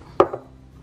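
A single sharp knife chop through leeks on a board, one clear close strike followed by a softer second tap, then quiet.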